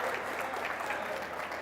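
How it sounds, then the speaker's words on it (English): Applause for bronze medalists at a curling championship, a steady dense clapping from an indoor crowd filling the whole short stretch without a break. "You can clap for them too."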